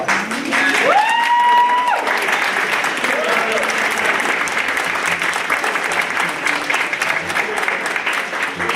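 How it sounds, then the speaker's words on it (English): An audience at a high school winter concert gives the teachers a sustained round of applause, with dense, loud clapping that fills the room. Brief voices and tones sound at the start before the clapping takes over. "let's stand and give them a round of applause"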